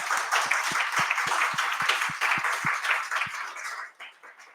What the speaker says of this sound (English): Can we give John a round of applause